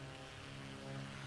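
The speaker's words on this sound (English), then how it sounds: "Man, I love the sounds of this plane." Steady drone of a Beechcraft Duke twin propeller plane's engines in a flight simulator while cruising over the Mohawk River, with a constant layered hum that stays even and fairly quiet throughout, with no talking.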